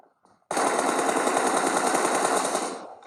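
An M4 rifle in a video game fires a sustained, rapid automatic burst lasting over two seconds, loud and close, after a short quiet lead-in.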